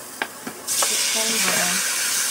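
Chicken breast sizzles and hisses as it hits a hot pan with ginger, garlic and onion, a steady loud frying roar following a few light clinks of utensils.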